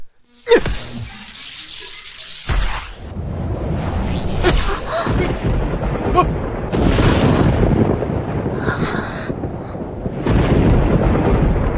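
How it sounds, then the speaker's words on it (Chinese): A sudden loud crack of thunder followed by a long, heavy rolling rumble that keeps going, with no talking. "打雷了吗？"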